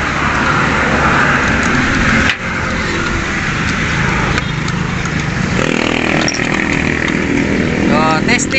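A motorcycle engine with a freshly repaired stator runs loud and close, a continuous buzzing drone that dips briefly partway through before carrying on steadily.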